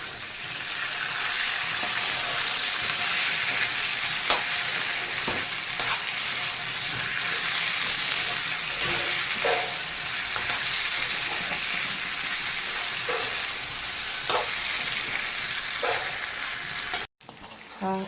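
Chicken pieces deep frying in a pan for biryani, a steady loud sizzle with occasional stirring scrapes that runs on alone before cutting out near the end.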